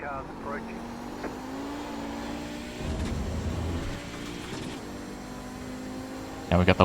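In-car engine drone of an Audi 90 GTO in a sim-racing IMSA Vintage race at Mid-Ohio holds steady as faster race cars close in around it, ending in a sharp burst of engine noise.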